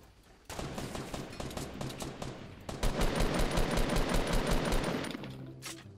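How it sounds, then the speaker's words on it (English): Rapid gunfire in the video game Fortnite: dense bursts of automatic shots, louder and continuous after a short lull, heard close and alone. "Oh, some shooting at the legendary bush."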